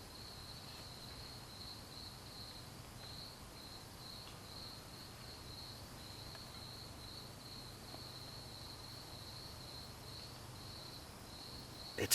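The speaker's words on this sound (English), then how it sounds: "like the buzzing of bees, almost like a beehive or something." Dense, steady chorus of crickets and other insects at night outside a large Korean pop-up tent during solo camping, a continuous high drone with a low hum underneath, constant in level throughout.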